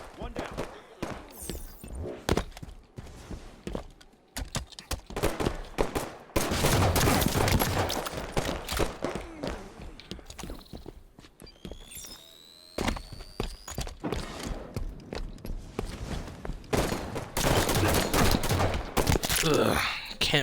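Gunfire in the Halo 5 video game, repeated bursts of shots and impacts amid busy game action, loud and choppy with brief pauses, and a voice talking over parts of it.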